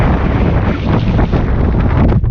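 Strong wind roars and buffets the microphone continuously, loud and rumbling throughout.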